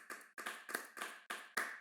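About six separate hand claps at a gallery tour, evenly spaced and fairly faint, like a small group clapping briefly.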